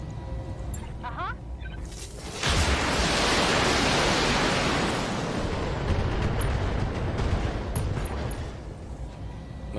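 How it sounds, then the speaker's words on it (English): A mech's ammunition cooking off in the Battletech video game: a massive roaring blast bursts in after two seconds and holds as a dense, loud rumble, preceded by faint game sounds. "Okay, we got an ammo explosion."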